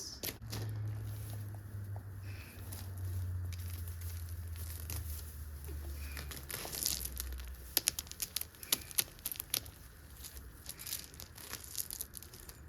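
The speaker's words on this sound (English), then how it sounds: "we leave the dandelions there, and we are pulling out the grass." Repeated tearing and ripping of wild grass pulled by the roots from rain-softened soil, close up, with crinkly rustles and small snaps, a low hum in the background.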